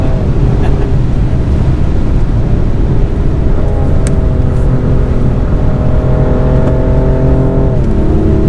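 A BMW M4 Competition drives on a race track on a sunny day, its engine a steady, loud drone with tones that rise gradually as it accelerates, heard close and continuous with no voices.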